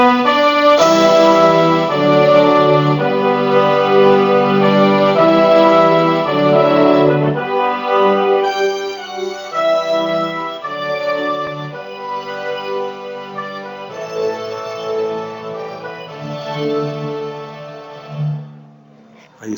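A sustained orchestral melody rises over soft, held accompanying chords in a warm ensemble, the sound swelling and thinning as it moves along without any talking.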